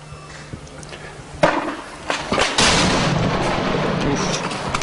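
Gunfire in a combat scene, sharp loud shots cracking near and far, with a heavier blast after which a sustained rumbling roar continues, and a voice faintly audible beneath.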